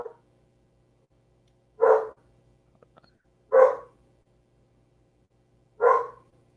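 Dogs barking outdoors, three separate single barks spaced a couple of seconds apart, moderately distant against a quiet background with no talking.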